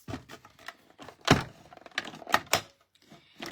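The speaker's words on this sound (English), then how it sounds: "I want my mini Stampin' Cut and Emboss machine again." A mini Stampin' Cut and Emboss machine cranks through Granny Apple Green cardstock, giving a series of close, dry clicks and knocks with a few sharper thunks.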